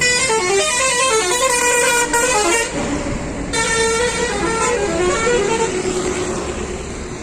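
A bus sounds its horn in repeated loud, sustained honks close by, with a steady engine rumble underneath as it passes.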